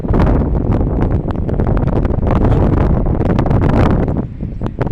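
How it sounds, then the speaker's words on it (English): A warm coastal breeze buffets the microphone in loud, continuous gusts with rustling, easing slightly near the end. "It's a bit breezy, but it's a warm breeze."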